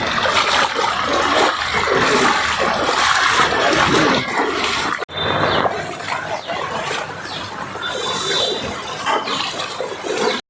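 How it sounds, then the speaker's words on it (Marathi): Water sloshes and splashes close by in steady surges, someone wading through deep monsoon flood water in Mumbai's Masjid Bunder market area, with a brief cut midway and faint sounds in the background. "गाईज आता निघालो आम्ही फायनली ह्या पाण्यामधून कसं तरी, कारण भरपूर पाणी झाले"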